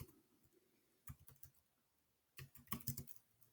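Typing on a computer keyboard, quiet nearby key clicks in two short bursts with a pause between them.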